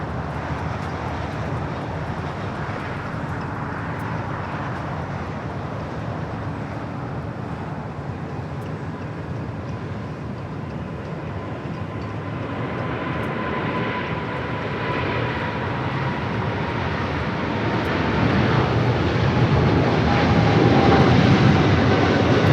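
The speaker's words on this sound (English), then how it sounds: "we do have a heavy rolling down 25 right. It's the British Airways 777-300ER flight heading back to London Heathrow" A British Airways Boeing 777-300ER heavy jet rolls down runway 25 right at Los Angeles International for a takeoff toward London Heathrow. Its engines make a steady broad roar that builds louder toward the end as it accelerates, with no talk over it.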